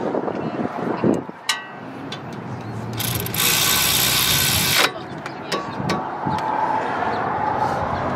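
A wrench tightens a brake caliper bolt on a 2014–2020 Chevy Impala, producing short ratcheting clicks and a steady whooshing mechanical stretch, with some handling knocks and brief bursts of wind noise.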